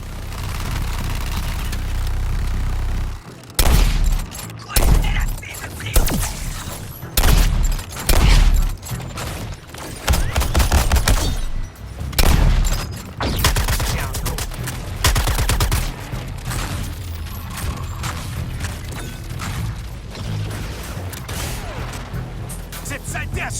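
Rapid bursts of gunfire and heavy weapon blasts ring out in the video game Suicide Squad: Kill the Justice League, loud and dense in repeated volleys over half a minute, with voices talking over the combat.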